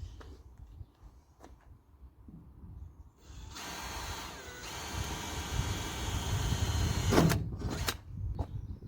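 Power drill boring holes through a van's metal panel, taken slowly with a small bit, a sustained whining grind from midway with brief clicks and bursts, close by.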